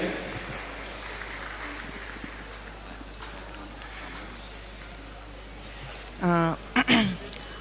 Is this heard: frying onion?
no